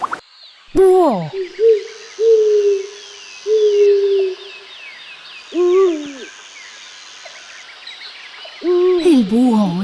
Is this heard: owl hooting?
yes